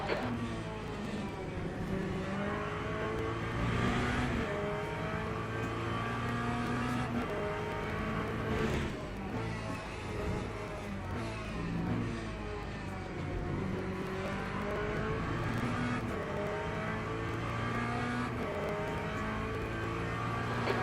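Race cars circulate continuously in the sim racing game Le Mans Ultimate, a dense layered engine roar with several cars near and far, steady and loud with no gaps throughout.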